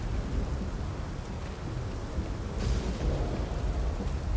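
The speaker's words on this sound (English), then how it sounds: "It's definitely a quite convincing rain lashing on the floor." Rain lashes the ground in the game South of Midnight, a steady dense hiss with a low rumbling wash and no voices.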